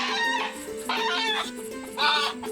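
A large native country rooster, a pure desi bird about 1.5 years old and weighing around 2 kg, gives three loud, close, harmonic calls in quick succession.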